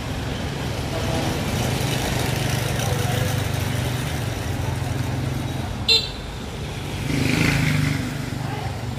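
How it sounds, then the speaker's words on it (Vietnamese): A chainsaw engine runs steadily beside a Taiwanese almond tree near three-phase power lines, holding a rough droning tone before briefly revving louder near the end. "Mình đem cái máy cưa xuống phía dưới luôn."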